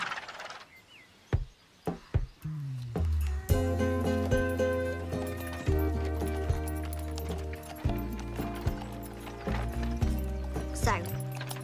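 Hooves of a grey horse clip-clop along a road, starting as a few sparse, separate strikes and then continuing at a steady trot beneath a swelling instrumental music score.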